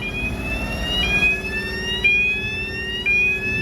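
A weighbridge siren sounds loudly as a sugar beet lorry's weight is recorded on a farm, a steady wailing tone that rises in stepped pulses about once a second over a low engine rumble.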